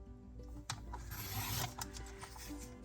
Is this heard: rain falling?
no